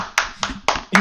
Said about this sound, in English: That's the sound of me clapping.